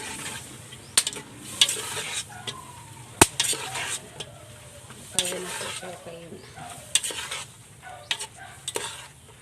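Pancit noodles stirred in a cooking pan, a scraping, sizzling mix with intermittent metallic clanks of the utensil against the pan, close and fairly quiet, with no talk.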